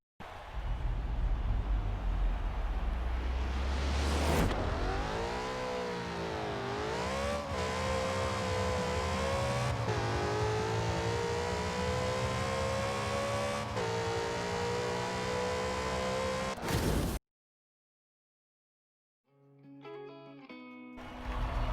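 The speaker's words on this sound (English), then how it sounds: "Let's listen to this high-revving V8 on track." Lexus RC F V8 engine in the video game Forza Horizon 4 on a quarter-mile run, revving loud and high, pitch climbing through several gear shifts, then cutting to silence before a brief quieter burst of revs near the end.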